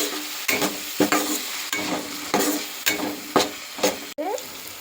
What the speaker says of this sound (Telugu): అలాగే కొన్ని టమాటాలు వేసేసుకుందాం. అలాగే కట్ చేసి పెట్టుకున్న పచ్చిమిర్చి కూడా వేసేసుకుందాం. కరివేపాకు కూడా వేసుకొని ఒకసారి ఇలా కలుపుకుందాం.